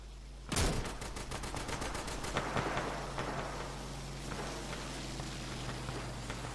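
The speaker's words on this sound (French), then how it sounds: "je fais bombarder No Man's Land" An artillery bombardment in a Garry's Mod WWI military roleplay game opens with a sudden loud blast. A rapid burst of sharp shots follows, then scattered distant booms and rumbling, with no talking.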